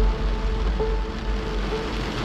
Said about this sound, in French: Ça y est, on va se taper la grosse pluie.